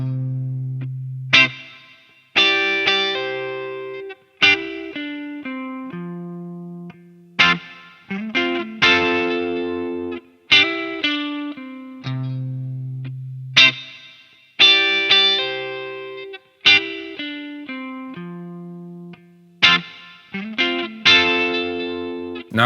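An electric guitar track reamped through an effects unit plays a clear, distorted riff with chorus-like shimmer, loud struck chords and sustained notes repeating in a steady rhythm, with no voices.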